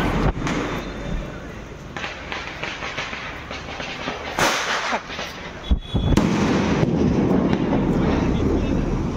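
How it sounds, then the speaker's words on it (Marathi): Firecrackers burst outdoors during a Bhaubeej festival celebration in Thane, with sharp cracks and bangs at varying distances over crackling and hissing, while people talk and call out nearby. "फुसके फुसके बॉम्ब का पायात फोडते लोकांचा"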